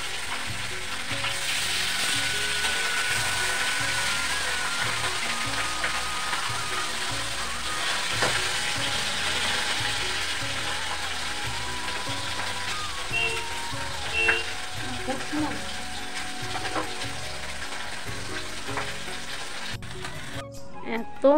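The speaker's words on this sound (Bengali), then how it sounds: "এত মাছটা ফুটছে যে কি বলবো" Fish frying in hot oil in a kadai gives a continuous, even sizzle with faint crackles and occasional spatters. It stays steady and close throughout, with no voices.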